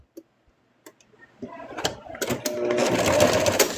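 A sewing machine stitches fabric for a Kawbootoe-inspired make, starting with a few sparse clicks and thumps, then building into a steady, close, busy mechanical run over the final second and a half.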